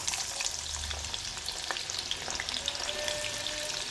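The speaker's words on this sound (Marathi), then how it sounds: "कांदा चांगला परतून घेऊया" Onion sautés in hot oil with cumin in a kadai, a soft, continuous sizzle with faint clinks of stirring and no talk.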